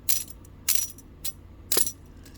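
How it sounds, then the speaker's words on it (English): A topwater fishing lure clicks against its small metal flap in quick bright metallic ticks, four or five taps in an uneven rhythm, close and alone. "as it comes by, it creates a noise hitting another little metal flap right there"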